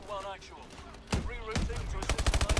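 A mounted cannon fires in Call of Duty Advanced Warfare: after someone talks briefly, sharp shots crack out, growing into a fast rhythmic burst of loud gunfire near the end.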